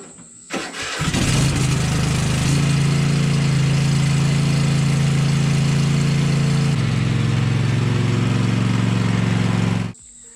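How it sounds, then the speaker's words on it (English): An XT1 LT50 riding mower engine cranks briefly, catches and settles into a loud, steady idle, close by, shifting once to a lower, rougher hum before cutting off abruptly near the end, with no talking. "I have not used it today, so it should start up."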